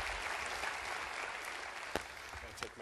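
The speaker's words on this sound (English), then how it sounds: "Round of applause for Alan November, everyone." An audience at an EduTECH education talk applauds after the speaker finishes, a dense, fairly quiet wash of clapping lasting a few seconds, with a couple of louder individual claps near the end and faint voices.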